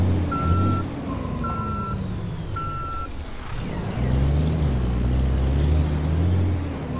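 Reversing alarm on a truck in Euro Truck Simulator 2 with ProMods: three evenly spaced electronic beeps over a steady diesel engine rumble, followed by the engine revving louder as the truck backs in.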